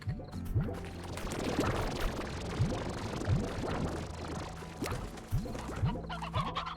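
Stony hens in the Slime Rancher video game cluck repeatedly over a busy, watery game background, with short chirpy calls scattered throughout at moderate volume.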